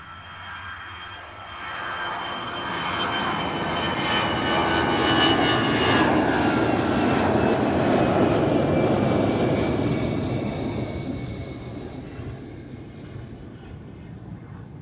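A jet airliner's engines roar at Amsterdam Schiphol Airport. The rumble swells to a loud peak and then eases back down over several seconds, with no talking.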